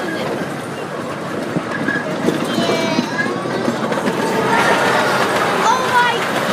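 A train rolls along on a passenger train ride, its steady rumble and rattle filling the whole stretch while people talk over it.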